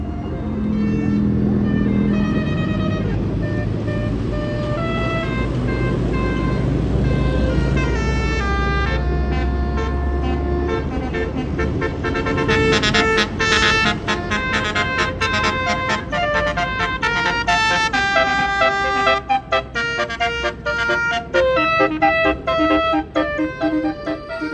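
Musical telolet horns on tour buses at a crowded souvenir-center parking lot in Indonesia honk continuously and loudly, layered melodic toots overlapping with rumbling bus engines throughout.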